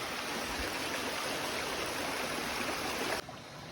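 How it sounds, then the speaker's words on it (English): A small creek flows along a bush hiking track, giving a steady, close rushing and trickling wash of water that carries on evenly throughout, with no voices. "I'm coming to one of these creeks."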